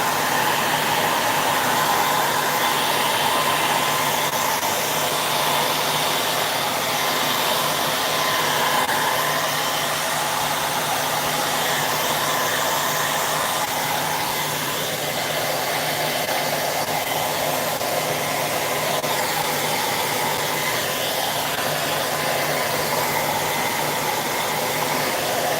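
A hair dryer blows steadily and loudly throughout, drying paint inlays on shelves made from old chairs, a constant close whoosh with no talk over it.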